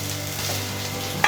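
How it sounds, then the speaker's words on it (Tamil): Eggplant and potatoes sizzle and crackle steadily in a hot pan over low heat, with a brief scrape of stirring near the end. "சிம்மில் வச்சு வதக்கிக்கோங்க"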